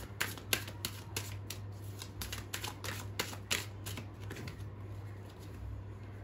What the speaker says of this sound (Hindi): और आपके सामने मैंने कार्ड्स निकाले